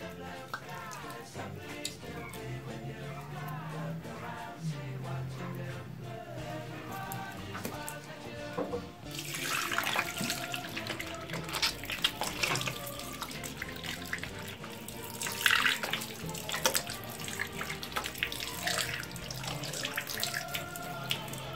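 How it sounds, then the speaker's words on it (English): Hands being washed with soap under a running faucet, a steady splash and trickle of tap water into a sink that grows busier and brighter partway through, fairly faint with a soft background bed. "Remember, wash your hands frequently with soap and water"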